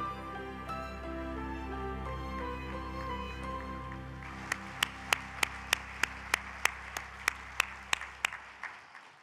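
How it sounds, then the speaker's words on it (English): Applause breaks out among a church gathering at a planter commissioning service, starting as soft scattered clapping under music, then a series of sharp, evenly spaced loud claps near the mic. "Yeah, you can cheer."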